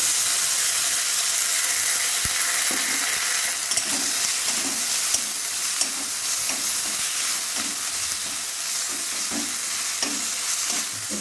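A ground paste of cumin, ginger and black pepper fries in a pot, producing a loud, constant sizzle with small pops and a run of soft rhythmic stirring scrapes, heard alone without talk.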